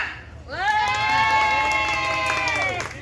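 A crowd at a Betawi cultural festival shouts in a long, sustained cheer, many voices rising together and holding the call before it breaks off, loud and close.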